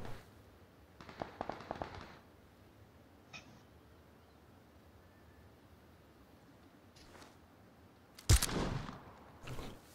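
Gunfire in the battle royale video game PUBG Battlegrounds, a few sharp cracking bursts scattered across quiet stretches, with the loudest volley near the end.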